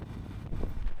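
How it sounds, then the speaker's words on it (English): Strong wind gusts buffet the microphone outdoors in Iceland, a dense continuous low rumble with rising and falling surges and no voices. "It's getting really windy, cold because of the wind."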